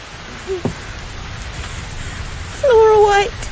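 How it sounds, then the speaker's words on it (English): Steady rain patters throughout an outdoor scene in the VR mystery game The Invisible Hours, forming a constant hiss, with a brief voice-like tone breaking through near the end. "Could I persuade you to come out of the rain, Flora"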